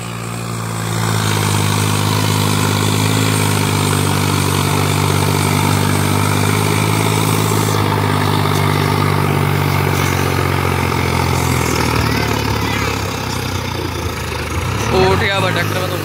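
Swaraj 855 tractor engine running steadily at a village tractor competition in Roorkee, a loud continuous low drone with harmonic hum that holds for most of the clip, rising slightly near the end.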